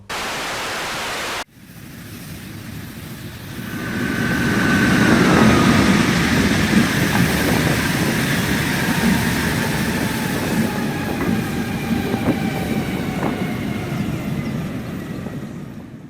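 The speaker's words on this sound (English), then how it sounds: "as I wanted to get train 234 passing Takapū Road" DC 4605 diesel locomotive hauling train 234 past Takapū Road, a loud broadband rumble swelling as it nears and then holding steady with rail clatter and a faint horn-like tone, after a brief burst of noise at the start.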